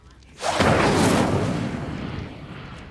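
An Incendio fire spell in Hogwarts Legacy is cast at cobwebs, erupting as a sudden loud burst of fiery roar that swells in and then slowly fades over a couple of seconds.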